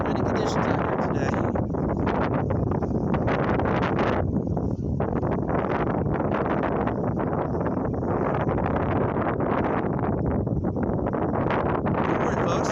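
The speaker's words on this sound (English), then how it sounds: "we have a little bit of winds out here today. A little bit windy conditions out here today." Strong wind buffets an outdoor camera microphone trackside on a windy afternoon, a loud continuous rumbling roar with gusty surges throughout, nearly drowning everything else.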